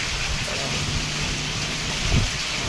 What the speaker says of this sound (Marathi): खूप पाऊस पडतोय.